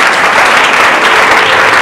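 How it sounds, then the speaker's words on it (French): A church congregation applauds and cheers in praise, a loud, dense, continuous wash of clapping from many hands throughout. "Est-ce que tu peux acclamer le Seigneur avec nous?"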